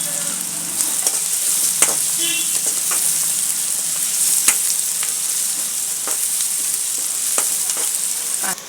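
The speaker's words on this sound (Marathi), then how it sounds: "कांदा आपला भाजत आलेला आहे" Onion fries in hot oil in a pan with bay leaf for a kurma, making a loud, continuous sizzle broken by scattered spatula taps and scrapes. No one speaks.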